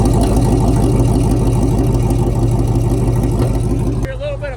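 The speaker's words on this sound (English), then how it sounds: "Hear a little bit of popping coming out of the exhaust" A huge ramp truck engine warms up, idling loudly and close with a rough, pulsing rhythm and occasional exhaust pops, then drops off near the end as a voice speaks.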